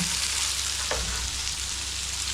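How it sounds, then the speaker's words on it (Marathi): Bombay duck fish frying in a pan, a steady broadband sizzle filling the whole stretch with one brief scrape or stir near the middle, close and continuous with no talk. "इथे बोंबील फ्राय करणं म्हणजे"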